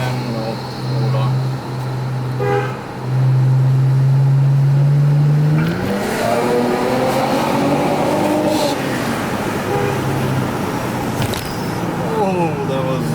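A Mercedes-Benz CLS350 downshifts and pulls hard, its engine note climbing loudly and steadily in pitch over several seconds, close and dominant with a brief talking voice early on.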